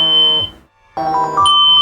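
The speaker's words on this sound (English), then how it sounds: "Oh, that's my alarm to upload a" A phone alarm goes off in two bursts of loud, steady electronic beeping, separated by a brief silent gap. There is no talking over it.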